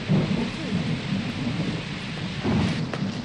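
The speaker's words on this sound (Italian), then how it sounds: "è il temporale!" Steady rain pours through a thunderstorm while deep rumbles of thunder roll beneath it, swelling louder near the start and again toward the end, with no voices.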